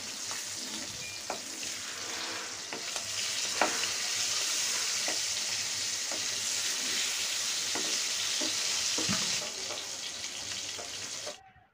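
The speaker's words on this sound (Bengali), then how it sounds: "ইলিশ মাছগুলো হচ্ছে ফ্রাই করে নিচ্ছি" Hilsa fish pieces fry in a pan with a strong, steady sizzle and scattered sharp pops and utensil clicks, the hiss running continuously before cutting off abruptly at the end.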